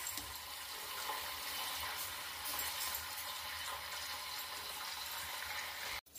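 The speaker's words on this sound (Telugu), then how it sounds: "ఇవి రెండింటిని సన్నగా వేయించుకుందామండి, కలర్ మారే వరకు." Rice and dal fry slowly over a low flame on the stove, a faint, steady, even sizzling hiss that continues unbroken before a sudden clunk at the end.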